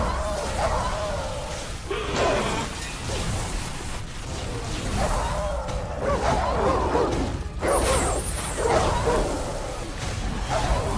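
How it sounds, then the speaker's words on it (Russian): Exploding hellhound-like dogs in the video game God of War 3 bark and growl amid whooshing combat effects and crashes, with someone talking over the busy, continuous game audio. "Собаки взрываются."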